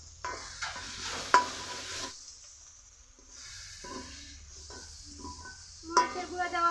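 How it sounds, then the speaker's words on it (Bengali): Masala with chili powder stir-frying in a pan for jackfruit and prawn curry. A spatula scrapes and taps against the pan over a faint sizzle, with a quiet pause in the middle and scattered sharp metallic clinks. "মরিচের গুঁড়া দেওয়ার পর আরো কিছুক্ষণ কষিয়ে নিব"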